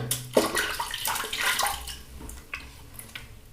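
Water splashing and running as a face is rinsed after a wet shave, with short irregular splashes and a steady trickle, close by and moderately loud, with no talking.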